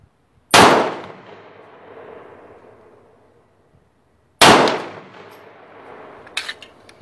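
Two sharp, loud metallic impacts about four seconds apart as shots strike a red dot target during a skills test, each ringing out and decaying slowly, with a faint clatter after the second.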